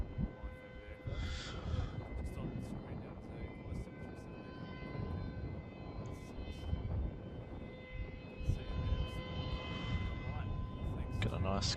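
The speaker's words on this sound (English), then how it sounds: "737-800 vacating runway 16." Boeing 737-800 jet vacating the runway at Melbourne Airport, a steady broad engine roar with a high whine, moderately distant and continuous, under intermittent voices.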